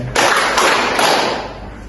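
A classroom group claps together during a counting rhythm game. A loud, close wash of clapping starts suddenly and holds for under two seconds with a couple of stronger accents, then tails off.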